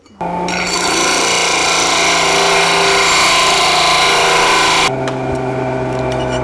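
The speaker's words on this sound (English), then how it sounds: "We'll need to go grind it a little bit" Grinding on a steel part for the front straight axle lift of a 1949 Chevrolet gasser: a loud, steady power-tool grind starts almost at once, holds for several seconds, then drops to a lower continuous whir with light rattling.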